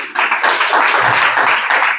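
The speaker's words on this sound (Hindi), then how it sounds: "ताली बजाकर इनका उत्साहवर्धन करिए।" A hall audience claps to encourage prize winners at a cleanliness festival event, giving a dense, steady burst of applause that sounds close and fairly loud and fades slightly toward the end.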